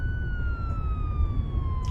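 A police car siren wails in one long, steady tone that slowly glides downward. It sounds loud and close over a low rumbling background, without speech.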